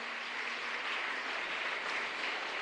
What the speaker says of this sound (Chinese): 拍手，拍手，拍手